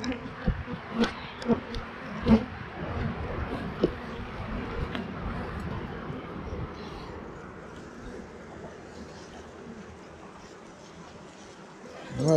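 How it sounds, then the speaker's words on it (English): A steady, dense buzz of many honey bees close by at a hive, with a few louder thumps early on, fading slightly before a sudden rise at the end. "you want these nurse bees"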